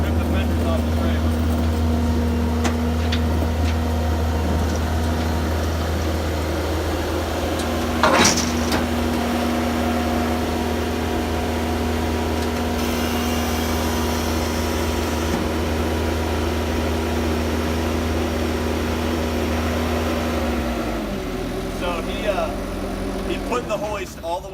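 A skid steer loader with its bucket raised is driven onto a trailer, its engine droning steadily and close for about twenty seconds before the pitch drops as it settles, with a few clanks and someone talking over it.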